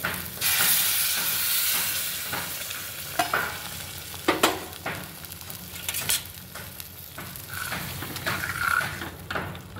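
Black ghevda dal lands in frying masala with a loud hissing sizzle, followed by scraping stirs and clinks of a spoon in the pan, close and continuous without talk.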